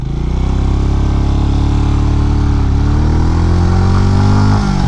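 A Benelli Imperiale 400 single-cylinder motorcycle pulls hard through its gears, the loud close engine note climbing steadily in pitch with brief dips at each shift, continuous and without voices.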